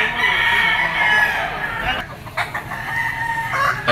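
A Gilmore Hatch green-legged bull stag gamecock gives a loud, close crow that rises and fades over a couple of seconds, followed by shorter clucking calls and faint background sounds.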